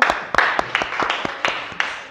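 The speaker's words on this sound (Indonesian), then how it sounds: "Coba tepuk tangan dulu" A class of students claps together indoors, a ragged burst of sharp, fairly close hand claps with uneven rhythm and a few faint voices mixed in.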